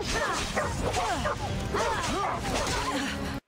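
A dog in the Assassin's Creed Odyssey video game barks and yips in quick repeated bursts, loud and close, over game sound effects.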